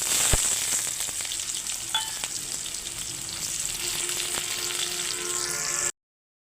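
Onions sizzle and crackle steadily in hot oil, a continuous bright frying hiss with occasional pops and a faint stirring clink.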